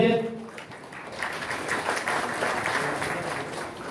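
An audience applauds for Ashok Patil at a local political gathering, with a dense, continuous patter of many hands clapping at moderate distance, a voice fading out at the start.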